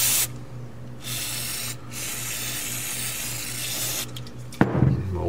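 A rag wipes oil off a crankcase seal on a 1973 Honda CB750 engine, a steady close hiss of rubbing over a low hum, ending in a brief clatter.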